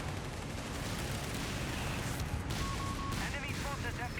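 Tank cannon shots and battle noise from the real-time strategy game Company of Heroes 3, with Stuart light tanks firing on a Panzer IV; dense, continuous rumbling combat ambience with scattered sharp reports, loud throughout.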